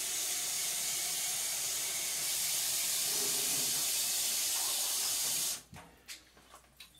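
Water from a kitchen faucet runs through the bypass of a Brita faucet-mounted filter with a steady close hiss for about five seconds, then shuts off, leaving a few small drips and clicks.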